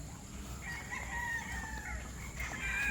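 A sweater gamefowl rooster of Boston sweater coloring crows a drawn-out call, then starts another at the end, over steady outdoor background noise.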